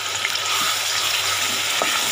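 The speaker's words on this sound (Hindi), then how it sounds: "सबसे पहले घी के अंदर प्याज डाल दें।" Chopped onions frying in hot ghee for a Punjabi rajma masala, a steady close sizzle and crackle with faint stirring, no voices.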